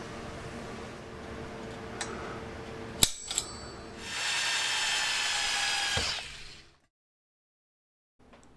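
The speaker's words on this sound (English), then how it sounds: "drill a hole with a number 4 center drill" A number 4 center drill bores a hole in a steel mountain bike frame's bottom bracket shell, opening with faint mechanical clicks and a sharp knock, then a steady, close high drilling whine for about three seconds before spinning down to silence.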